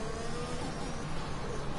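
Race cars circling a track on out-laps during a Formula 1 qualifying session in a racing video game, heard as a steady, continuous engine drone with no distinct pass-bys.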